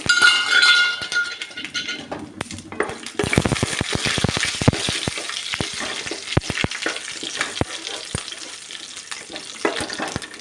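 Mustard seeds, chana dal, cinnamon, cloves and bay leaf crackle and sizzle in hot oil for coconut rice, with sharp popping bursts and a steady frying hiss, close and loud, no voices.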